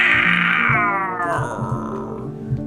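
Deep, drawn-out cat-like yowl made by a human voice imitating a massive cat, starting as a bright strained tone that slides downward into a low rumbling growl, loud and close with no other sounds.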